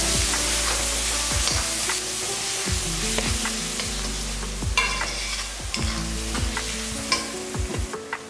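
Ginger and garlic sautéing in oil in a pot for Tamil-style chicken kuzhambu, a loud steady sizzle broken by repeated sharp spoon knocks and scrapes against the pan.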